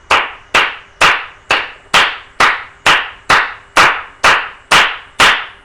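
Sharp, bright, high-pitched flamenco hand claps (palmas) repeat in a steady even rhythm, about two per second, loud and close with no voices.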